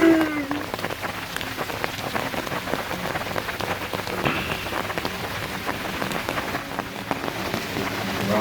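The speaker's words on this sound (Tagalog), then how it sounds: "Wow! Sa ulan!" Heavy rain pours steadily during a motorcycle ride near Boso Boso, Antipolo, Rizal, a dense, even hiss of drops hitting surfaces with no breaks for the full stretch.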